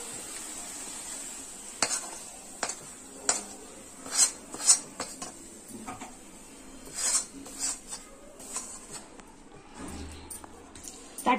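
A thick ginger sweet mixture is scraped from a wok onto a ghee-greased plate, with a series of metallic spoon clinks and scrapes against the pan, fairly close and intermittent.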